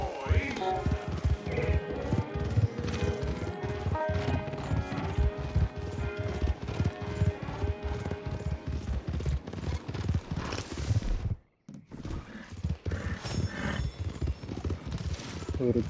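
Horse hooves gallop in the video game Red Dead Redemption 2, a fast, loud, continuous drumming rhythm that drops out briefly near the end before resuming, with someone talking over it.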